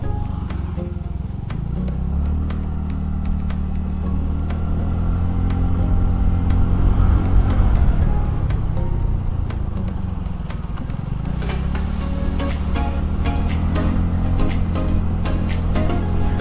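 A TVS Ntorq BS7 scooter cruises along a highway, its small engine droning steadily with rumbling wind and road noise up close, the pitch rising and falling slightly as it accelerates.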